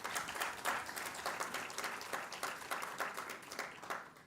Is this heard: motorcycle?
no